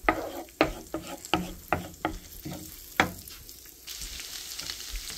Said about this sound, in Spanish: voy a agregar el ajo. Voy a freírlo un poquito, unos segundos que se fría el ajo.